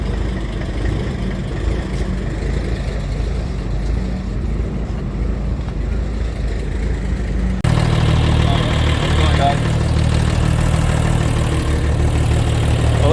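Diesel engine of a truck at a truck show idling steadily after starting, a low continuous rumble that shifts to a deeper, louder tone partway through, with outdoor background noise.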